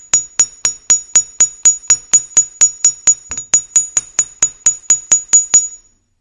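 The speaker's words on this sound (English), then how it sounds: "So that's where I will try to aim my hammer" A hammer strikes a metal earring wire in a steady run of about twenty sharp, bright taps, close and evenly spaced, each with a short ringing clink, no voices.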